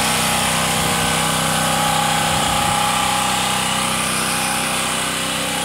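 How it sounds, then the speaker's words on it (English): A Champion portable generator engine runs steadily at close range, a loud, continuous droning hum with a buzzy mechanical whine that holds even without pause for several seconds. "So this is my third Champion generator."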